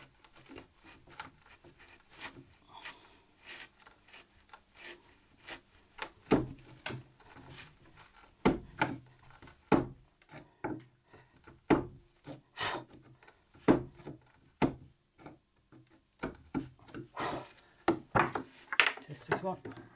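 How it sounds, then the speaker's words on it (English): A chisel works into wood during a DIY gear-storage build, giving sharp, irregular taps and scraping cuts, some louder strikes clustered in the middle, with brief pauses and occasional talk. "Let's go straight to the chisel."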